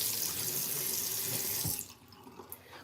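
Water runs steadily from a tap into a sink during face rinsing, a close, constant splashing rush that cuts off near the end and leaves a few faint drips and handling noises.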